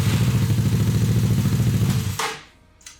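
A Honda Ruckus scooter with a 171 engine, fitted with a new high torque starter and starter clutch, runs with a steady, loud mechanical engine drone for about two seconds, then cuts out abruptly and leaves a fading rattle.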